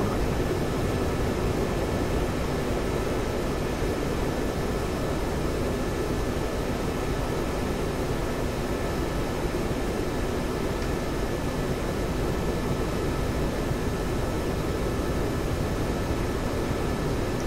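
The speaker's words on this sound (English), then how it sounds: "I have to full afterburn to catch up with you. I'm still afterburning." MiG-21 jet engine running on full afterburner in the DCS flight simulator, a steady, dense roar holding unchanged throughout with no breaks or talk.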